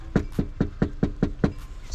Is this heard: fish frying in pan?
no